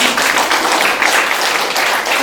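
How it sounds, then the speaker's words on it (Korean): A room of people at a Korean care-worker training association meeting gives a big round of applause, a loud, continuous, dense clatter of hands throughout. "한 번 더 큰 박수"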